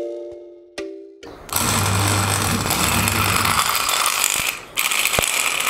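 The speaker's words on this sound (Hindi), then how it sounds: "यार हमारी जो मोटर है बहुत ही अच्छी तरीके से काम कर रही है" An old cooler water pump motor on 220 V AC: a few clicks and a brief hum, then it kicks into a loud, steady, rattling mechanical whir that briefly dips before resuming.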